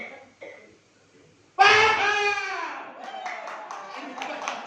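Applause from a seminar audience at a business event in a Makassar hotel, loose and scattered, following a loud shouted voice and continuing under ongoing talk to the end.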